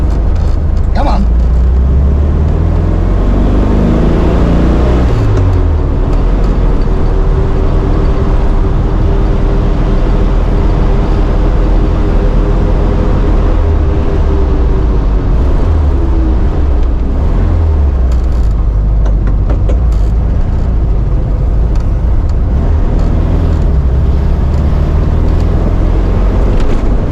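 A 1972 VW Karmann Ghia engine idles loudly and steadily up close, a deep rumble with a brief revving rise and fall in the middle, while people talk over it.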